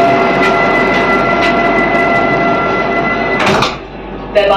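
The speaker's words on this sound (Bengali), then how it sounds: "দেখলে গেট বন্ধ হলো" On a Vande Bharat Express train at Howrah station, bound for Puri, a steady carriage hum runs until the door shuts with a single sharp clunk near the end, after which the background drops quieter.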